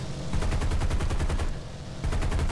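Six nose cannons of an A-20G attack aircraft firing in a realistic battle video game: rapid, loud bursts of thudding shots in quick rhythm, a brief pause, then another burst.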